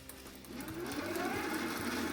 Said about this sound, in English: the lovely whirring of the e-motor